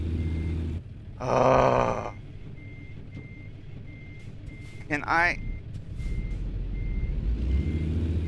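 A car's reversing beeps chirp steadily at a regular pace, faint beneath engine rumble, while someone speaks and groans over the top.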